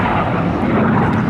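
A MiG-17 jet fighter pulls a maximum-G, minimum-radius turn at an air show, its engine a loud, steady, broadband roar that fills the short stretch without letup.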